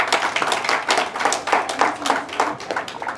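An audience at an Ayurveda Day award function claps in a quick, fairly close burst of applause, the individual hand claps distinct and evenly paced for a few seconds, with no speech over it.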